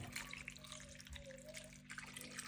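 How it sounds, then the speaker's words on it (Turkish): Tomato paste and dill water being poured into a cooking pot, a steady continuous liquid splash and trickle lasting a couple of seconds, close and fairly loud over faint background hum. "şimdi salçalı dereotlu suyumuzu da dökelim"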